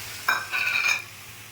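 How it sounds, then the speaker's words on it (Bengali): Water is poured into a pan of frying onion, garlic and ginger for a puti fish curry, setting off a sudden sharp sizzle that hisses strongly for about half a second before fading to a quiet background. "পেঁয়াজ রসুন আদা পেঁয়াজ কুচির সঙ্গে ভাজা হয়ে গেছে। এখন একটু জল দিয়ে দিলাম।"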